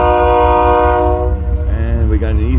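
Eastbound loaded freight train in Fremont, Nebraska sounding its horn, a loud sustained multi-tone blast close by that cuts off after about a second, followed by rumbling rail noise and a wavering tone.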